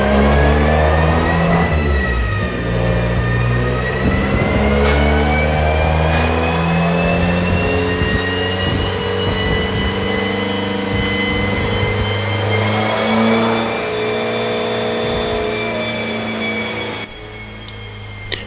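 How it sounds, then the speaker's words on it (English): An Abarth 500 T-Jet with a stage 1 map is run hard on a dyno, its engine revving up through the gears with rising pitch, loud and close and continuous, with brief shifts between pulls. "They did put a stage 1 map on the Abarth before giving it 2 full runs and fully sending it."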